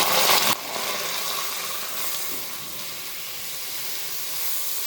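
Soaked polao rice hits a hot pan for chicken korma and pulao, starting with a loud hiss burst and then settling into a steady, close sizzle with no talking.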